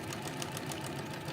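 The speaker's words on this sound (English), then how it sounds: "So now I'm just sewing it down" Sewing machine running to stitch down a French seam, a brief, steady, close mechanical hum with fast regular needle pulses.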